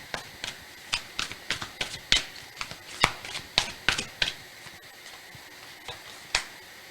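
Tarot cards are shuffled and drawn by hand at close range, giving a quick run of crisp snapping and flicking taps with brief pauses, with no talk over them.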